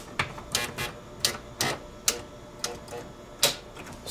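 Sharp, irregular clicks tick inside a 1938 Seeburg Regal jukebox under repair, about ten distinct close snaps spaced unevenly over a low background hum, with no talk.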